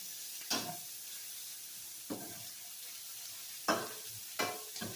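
Pork chops getting a quick sauté in a pan, a faint steady sizzle with a few separate bursts of hiss and scraping as the meat is moved or turned, quiet and close, nobody speaking.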